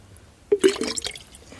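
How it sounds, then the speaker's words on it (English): A water bottle being filled in a shallow mountain stream gives a short burst of gurgling, bubbling water after a quiet start, close by and fading out within about a second. "it takes a little longer to fill the bottle up"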